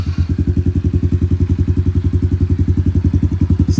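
A warmed-up Honda CRF110 dirt bike engine runs at a steady idle nearby, loud and even with a fast regular thumping pulse and no talking.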